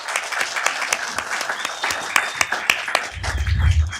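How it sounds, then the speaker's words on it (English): An audience at a Downey City Council meeting applauds in a dense, sustained round of clapping, close and lively, with a low rumble creeping in near the end. "And again, big round of applause to Christopher Troy."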